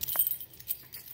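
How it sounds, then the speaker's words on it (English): Large old-fashioned door keys, much bigger than typical modern keys, jangle together at close range in a quick burst of bright metallic clinks, with no voices. "They're a lot bigger than what we're used to in the States."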